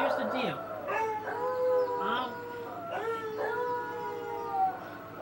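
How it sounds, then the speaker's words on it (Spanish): Dogs howl and whimper in a series of rising and falling wavering cries, several overlapping howls at moderate volume with faint background hum, a broadcast-like recording. "Todo andaba bien hasta que los perros empiezan a ladrar de la nada."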